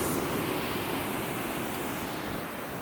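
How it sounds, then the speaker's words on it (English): Ocean waves wash on a sunny beach as a continuous loud roar of surf, mixed with wind buffeting the microphone. "I love these waves"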